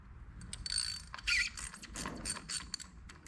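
Wrench ratcheting as the fill/check port plug is loosened on a mini excavator drive unit, quiet repeated clicking bursts and small metallic creaks at close range, with no talking.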